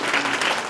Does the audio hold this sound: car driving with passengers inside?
no